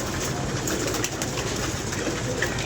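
Pigeons coo and flutter in a loft or rooftop setting, a steady busy murmur of birds that carries on evenly for a few seconds with no voices over it.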